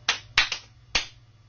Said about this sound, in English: repeat the clapping pattern I'm doing